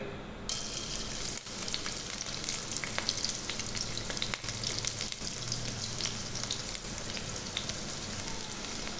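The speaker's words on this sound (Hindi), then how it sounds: "प्याज को 2 से 3 मिनट तक फ्राई करेंगे।" Onion frying in a cup of hot ghee in a kadhai for a Punjabi-style kadhi pakora, giving a steady, dense sizzle with crackling pops that runs on without a break. No one speaks.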